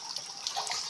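Water trickling from a sand-choked spring well, a faint, steady babbling flow with small bright splashes, with no voices.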